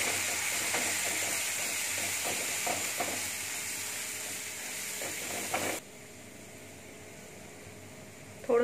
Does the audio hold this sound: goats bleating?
no